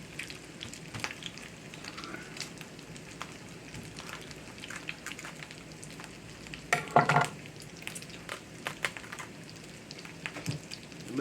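Cabbage chunks braising and sizzling in a cast iron skillet, a steady low crackle with soft stirring clicks and a brief louder burst of sizzle midway, no talking.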